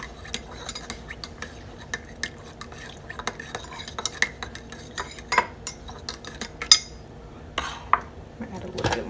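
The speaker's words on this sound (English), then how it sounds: "And I'm just gonna stir this with what's near me." A spoon stirs sea salt into water in a container, giving a run of irregular light clinks and taps against the sides over a quiet background, close and fairly soft, with a few louder knocks toward the end.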